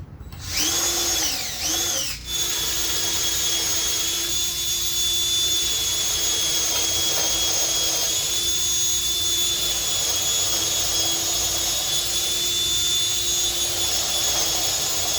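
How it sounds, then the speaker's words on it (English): A power drill whines steadily and loudly at high pitch while drilling holes in wood for a bench, starting with a couple of brief revs before settling into one continuous run. "This is actually a terrible way to drill these holes"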